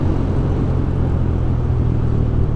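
Benelli BN125 motorcycle engine droning steadily in third gear while riding on a road, a loud, close, continuous low rumble with no voices.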